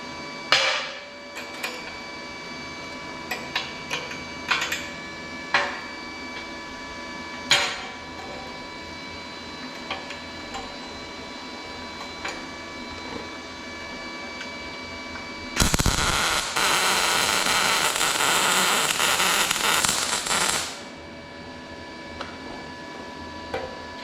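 Steel being welded for a ride-on trolley build: scattered metallic clanks and taps, then a loud steady buzzing crackle for about five seconds, over a constant mains hum with no talking.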